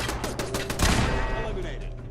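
Rapid bursts of automated turret gunfire in Fallout 4, loud and close, cracking repeatedly over a steady game background.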